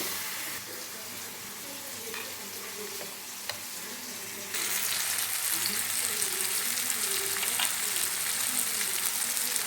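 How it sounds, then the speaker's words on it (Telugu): Masala paste for an eggplant and chickpea curry fries in a pan. A moderate sizzle with light stirring swells into a louder, denser crackle partway through and then holds steady, with no voices. "ఇప్పుడు ఈ పేస్ట్ యాడ్ చేసుకొని ఈ పచ్చివాసన పోయే వరకు వేగనివ్వాలండి."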